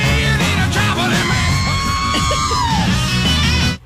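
A robot voice doing a loud, sustained raspy classic rock scream with a processed, electronic edge, held steadily for several seconds over a dense rock backing before cutting off.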